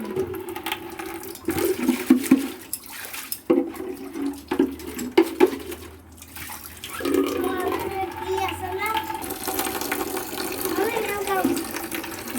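Water splashes and runs while plastic containers are rinsed out at home for growing water spinach, a continuous wash of sound with an adult talking and children's voices nearby.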